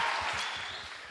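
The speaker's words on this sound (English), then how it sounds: "A round of applause for Mr." Audience at a community election meeting in Rustenburg applauds, a broad burst of clapping that is close and fairly loud at first, then gradually fades.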